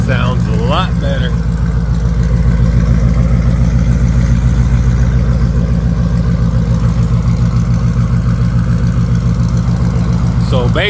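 Ford Mustang GT V8 idling with new Borla mufflers, a deep, steady, loud exhaust rumble close by, continuous throughout with a couple of brief higher squeaks.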